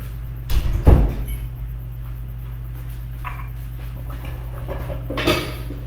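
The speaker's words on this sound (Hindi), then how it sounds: "मैं एक मिनट जरा दरवाजा बंद कर दूं।" A single door shuts with a close, low thud early on, over a constant electrical hum in a quiet room, followed by faint small knocks and shuffling.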